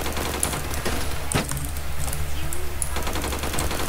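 Rapid bursts of gunfire from the first-person shooter video game Phantom Forces crackle fairly quietly over a steady game background, with a few sharper single shots.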